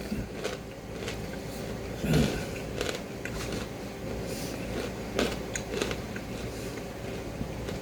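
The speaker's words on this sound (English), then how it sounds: "I don't know if you guys can hear how crunchy this is." Close, crisp crunching as someone chews a handful of Filipino snack mix of peanuts, chickpeas and sunflower seeds, with irregular bursts of crackle between quieter chewing.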